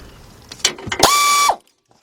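A ratchet socket wrench works on the front right strut assembly of a 2003 Lincoln Navigator, giving a few quick clicks followed by a brief, loud, steady ratcheting whir up close, then silence.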